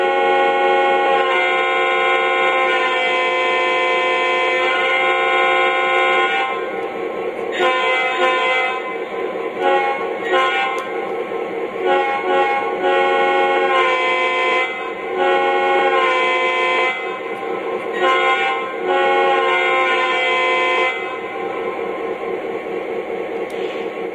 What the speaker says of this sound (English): I'll play the horn.